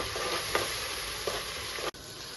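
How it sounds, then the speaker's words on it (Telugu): Tomatoes fry in a pan for a paneer and spinach curry, giving a steady, close sizzle with two brief stirring scrapes and a sudden drop near the end. "ఇప్పుడు టమాటా మొత్తం మంచిగా వేగిపోయి చక్కగా ఫ్రై అయింది"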